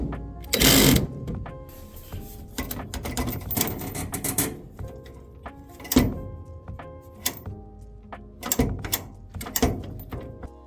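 Short bursts of a power tool tightening the idler pulley screw inside an opened Samsung dryer, several quick whirring runs mixed with clunks and clicks of tools and metal parts, close by with no talking.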